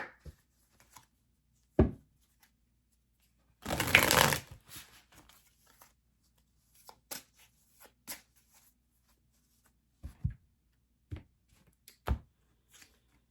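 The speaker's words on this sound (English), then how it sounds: "We're just going to do one shuffle for a minute here" Tarot cards riffle in one dense burst lasting under a second, followed by scattered light taps and soft handling sounds in an otherwise quiet room.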